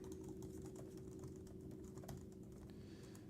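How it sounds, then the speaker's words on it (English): Rapid, steady typing on a computer keyboard, with close, continuous clicking keystrokes and no talking. "So right now, let me type this out here."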